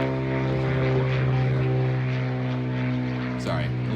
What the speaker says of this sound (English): I'm gonna let that plane go by